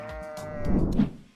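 Sheep bleat as a short sound effect: a couple of wavering, nasal calls that swell and then fade, close and clear, with no talking.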